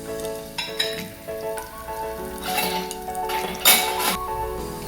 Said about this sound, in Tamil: கடுகு பொடிஞ்சிருச்சு. கடலைப்பருப்பு உளுந்து பருப்பு போட்டுக்கலாம்.